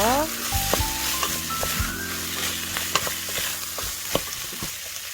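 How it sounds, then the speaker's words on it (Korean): Roasted potato, zucchini and onion are stir-fried for Spam gochujang stew, a bright sizzle with repeated sharp spatula taps and scrapes against the pan, over soft background music. "구웠던 감자, 호박, 양파 볶아주세요"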